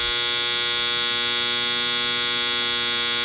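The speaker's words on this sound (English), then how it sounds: "I want to show you how to deal with this annoying loud buzzer." Loud buzzer on a GE clothes dryer, a steady, unbroken electronic drone held at constant volume throughout, with no voices or other sounds.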